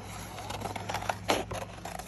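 Scissors snip through paper in a first-grade craft setting, quiet close crisp cuts with a few sharper scrapes, over a low background hum.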